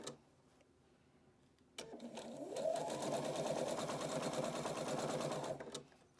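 Sewing machine stitching a seam around a scrub cap, quiet at first, then a steady motor whir with rapid needle ticking for about four seconds before stopping.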